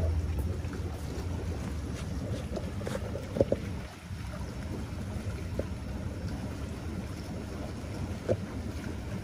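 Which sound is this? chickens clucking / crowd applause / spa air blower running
spa air blower running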